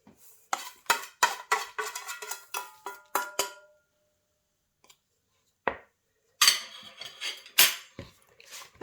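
Dark brown sugar is mixed into vegan gluten-free peanut butter cookie dough in a bowl, with a quick series of close clinking spoon-on-bowl scrapes, a pause, then another burst of stirring clatter.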